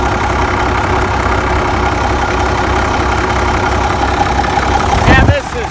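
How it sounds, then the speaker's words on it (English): A farm tractor engine idles steadily and close by, its low rumble unbroken throughout, with a brief extra sound and a slight rise near the end. "this is solid running tractor. Very solid running tractor"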